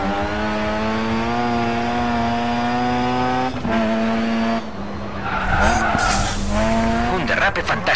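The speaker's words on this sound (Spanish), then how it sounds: "Un derrape fantástico." Race car in the Race Driver: Grid 2 video game, a loud steady engine whine that breaks into a long screeching tyre skid, with a voice talking over it.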